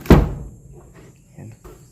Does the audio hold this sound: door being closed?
yes